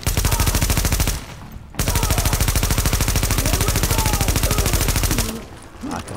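Automatic-weapon fire in Tom Clancy's The Division, two long rapid bursts of dense, loud shots separated by a short pause.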